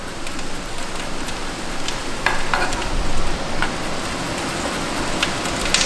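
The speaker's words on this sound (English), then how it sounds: "it's getting a really nice sizzle in that pan" Steady crackling sizzle of food frying in a pan, continuous and close, with a few sharper pops and spits rising above the hiss.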